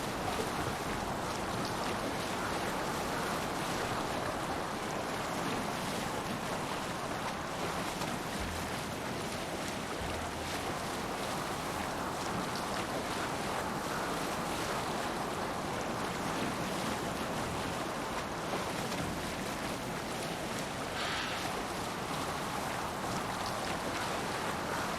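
Sailing ship with sail raised, pushing through ocean waves in a video game: a steady, loud wash of surf and wind noise fills the whole stretch without pause, with no talking over it.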